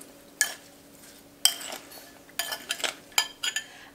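A spoon stirring kefta meat mixture seasoned with salt and pepper in a bowl, a series of close scraping clinks in uneven bursts, quickening toward the end.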